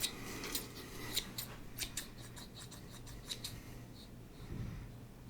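Scissors snip repeatedly close to the mic while trimming nose hair in a soft-spoken ASMR haircut roleplay, a series of crisp, quiet clicks and shears with a faint low hum beneath.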